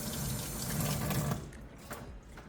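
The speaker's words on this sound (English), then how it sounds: "flush both sides with warm water." Warm water rushes through and flushes a PCV valve from a 2019-2024 Nissan Sentra 2.0L, a steady close splashing stream for about a second before cutting off, with faint dripping after.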